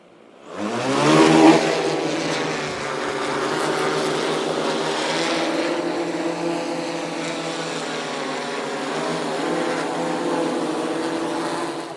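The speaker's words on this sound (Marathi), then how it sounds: "आता आपला ड्रोन चालू झाला हा ड्रोन आपला चालू झालेला आहे" An agricultural spraying drone's motors spin up sharply over a sugarcane field, then hold a loud, steady buzzing whine with shifting pitch, close by and uninterrupted.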